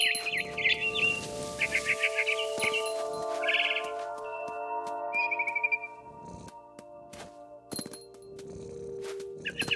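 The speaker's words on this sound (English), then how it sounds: "Then I heard chirping outside my window. It was a barn swallow going back to her nest." Barn swallow in the game What Remains of Edith Finch, giving quick bursts of bright chirps and twitters against a quiet ambient hum, with a few sharp knocks between calls.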